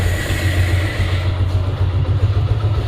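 A Suzuki Gixxer Classic motorcycle engine runs steadily at idle, a close, loud, continuous low rumble with no talk over it.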